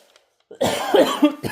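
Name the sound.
cough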